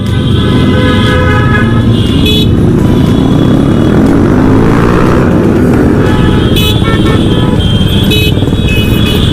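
A dense, continuous roar of many motorcycle engines, including Suzuki Gixxer SF bikes, moving together in a Victory Day rally, loud and close, with occasional horn toots cutting through.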